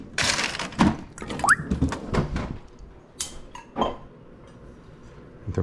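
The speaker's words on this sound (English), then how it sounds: "Throw an ice cube in there." Clinks and clunks in a kitchen, with a brief bright plink of an ice cube dropping into water among other handling noises.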